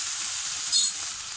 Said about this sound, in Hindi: वेजिटेबल्स मेरा ऑलमोस्ट फ्राई हो गया